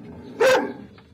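A hunting hound gives one sharp, loud bark at a hunt with hounds, the dogs held in a confined spot, with faint background noise before and after.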